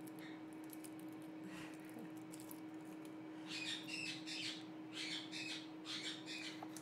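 Birds squawk and caw outdoors in a busy chorus of repeated calls, loudest in bursts during the second half, over a steady background hum with no talking.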